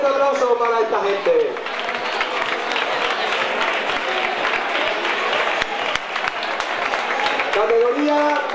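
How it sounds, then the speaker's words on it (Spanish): Sustained crowd applause at an awards ceremony for a urban mile race and half marathon, a loud, even roar of many hands with a voice heard briefly over it at the start and end. "Fuerte aplauso para esta gente."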